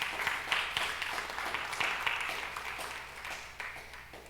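A church congregation claps for the Lord during a Sunday service, a steady wash of applause at moderate distance that holds for several seconds without fading much.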